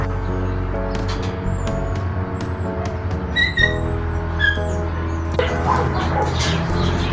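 Several dogs, including a beagle mix, bark, yip and whimper at an animal shelter, a run of close, repeated barks and yelps over a steady low mechanical hum.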